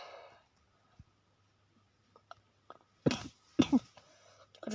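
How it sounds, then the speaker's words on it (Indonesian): Two short coughs from someone who is ill, close and fairly loud, breaking a quiet stretch with faint clicks and a trace of voice at the start. "Maaf guys kalau kalian terganggu sama batuk aku"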